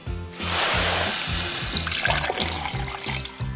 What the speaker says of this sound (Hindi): चलो जादुई पाउडर मिलाते हैं पानी में।